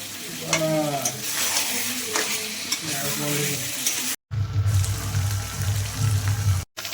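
Spice masala with cashew paste frying and being stirred in a pan for prawn malai curry, a continuous loud sizzle with scraping stirring strokes, briefly broken by two short cuts.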